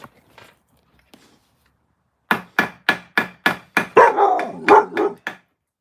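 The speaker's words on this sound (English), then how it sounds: "What you barking at?" A dog barks in a rapid run of about eight deep, loud barks, close by, after a couple of faint sounds and a quiet pause.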